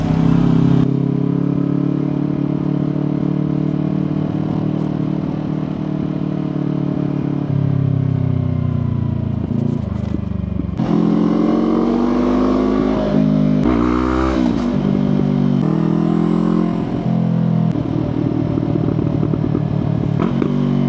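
A motorcycle ridden slowly on a wet mountain road in Japan, its engine droning steadily close up with shifting revs and brief throttle changes throughout.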